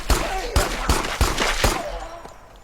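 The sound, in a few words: gunshots firing at a zombie in a video game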